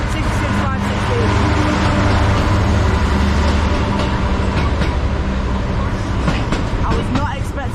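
East Midlands Railway Class 170 diesel unit at Manchester Piccadilly, a loud, steady engine drone with low rumble and rail noise, close by and continuous, with scattered clicks and a voice talking underneath.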